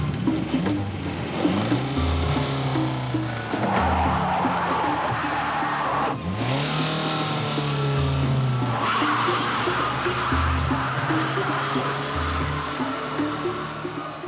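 Worn-out car engine straining to climb a slippery jungle slope in Cameroon, a continuous labored roar with revs rising and dropping, wheels spinning and slipping, and loud steady noise throughout.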